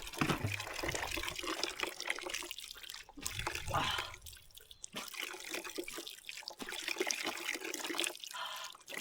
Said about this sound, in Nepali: पानी मुख धुन्छु अनि जाने